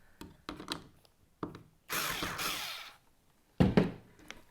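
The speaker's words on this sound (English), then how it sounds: "So I'm going to unscrew it just a bit." A power drill backs a screw out of a wooden picture frame, giving short whirring bursts and a longer run, with knocks and handling noises between them.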